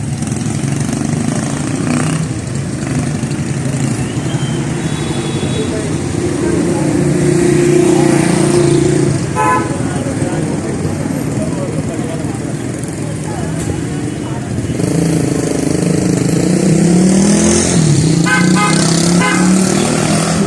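Traffic on busy San Luis Street in downtown Santiago de los Caballeros, Dominican Republic, by the post office building: a steady roar of car and motorcycle engines, with swells as vehicles pass close and voices faint in the mix.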